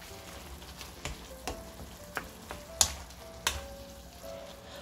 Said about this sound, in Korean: 볶아주셔요. 참기름도 한 수저 넣어주시고